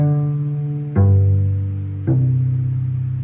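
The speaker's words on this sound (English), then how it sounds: "practice going through each of our open strings in a plucking pizzicato exercise." A low cello string is plucked three times, each pizzicato note ringing with a warm, resonant sustain that slowly decays before the next pluck.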